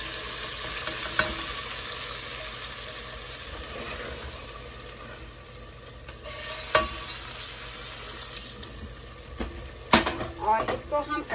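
Mashed turnip with a freshly added spiced tempering sizzles steadily in a pan, with occasional sharp scrapes and taps of a spoon stirring it, and a cluster of clatters near the end.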